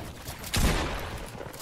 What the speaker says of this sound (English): They're killing me, they're shooting me